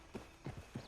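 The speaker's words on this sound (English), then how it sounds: "Get on the horse when you're ready." Horse hooves in Red Dead Online make three distinct, soft clip-clop steps in under a second, fairly quiet and evenly paced.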